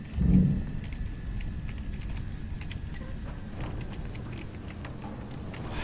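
A computer keyboard and mouse tap and click in quick, faint, scattered strokes close by, over a low steady room hum, after a brief thump at the start.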